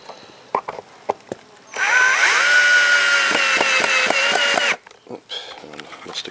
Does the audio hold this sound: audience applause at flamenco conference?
no